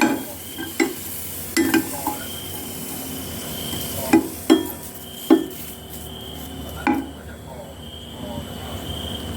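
Dried chilies dry-roasting in a pan for Thai crab paste chili dip, heard as a faint rustle punctuated by sharp utensil knocks and scrapes against the pan at irregular intervals, with some background noise.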